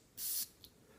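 A Pineapple Vintage Intense fragrance spray bottle is pressed once, giving a loud, close, hissing spurt of about a quarter second, followed by a much fainter short puff.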